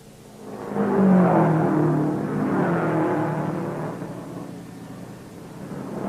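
Race cars at the 1950 Indianapolis 500 sweeping past, a single rising and fading engine roar that swells over a second, lingers, then recedes before another approaches, heard on an old, muffled recording.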